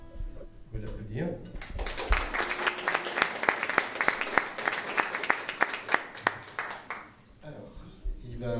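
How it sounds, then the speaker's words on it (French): Applause for a new student at a singing school, a short burst of clapping from a small audience with distinct individual claps that rises and then dies away, with talking just before and after. "Nouvel élève du cours de chant, donc Cédric, vous pouvez l'applaudir."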